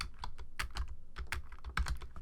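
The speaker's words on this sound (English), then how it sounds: "keep my typing going right here" Rapid keystrokes on a computer keyboard, close and crisp, irregular clusters of clicks with brief pauses, no voices.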